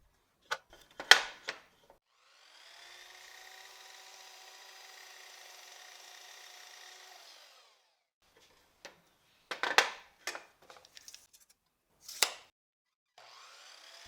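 Pieces of wood are trimmed square on both sides with a 40-tooth Freud saw blade: sharp impact and tool noises frame a steady, moderate cutting run of several seconds, followed by scattered knocks and handling sounds.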